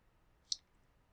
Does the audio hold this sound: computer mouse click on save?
yes